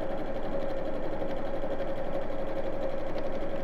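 A domestic sewing machine runs at a steady fast hum, stitching straight over fabric piping close to the edge without a piping foot, continuous and near, with no talk.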